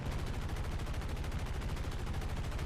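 Rapid continuous machine-gun fire from an F6F Hellcat fighter plane in War Thunder, a dense, evenly pulsing burst of bullets that runs loud and unbroken throughout.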